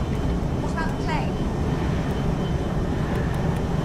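An airplane in flight in a Captain America film scene, a loud continuous engine roar filling the whole stretch, with a few faint radio-like chirps near the start.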